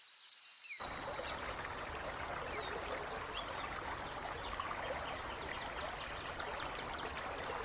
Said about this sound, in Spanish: Pequeños chorros de agua de la lluvia caen hacia el arroyo principal